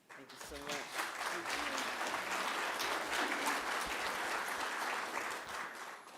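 Audience applause at the First Nations National Guardians Gathering, a steady, sustained wash of clapping from a large crowd, with some speech faintly audible early on.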